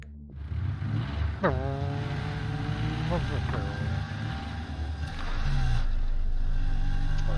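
A car engine rumbles continuously while driving in a video game, a steady low drone that swells louder toward the end, with someone talking over it.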